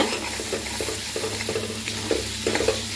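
Spice paste with fenugreek powder is sautéed in a pan for a Tamil vatha kuzhambu, giving continuous sizzling and frying over repeated stirring scrapes at an even, close level.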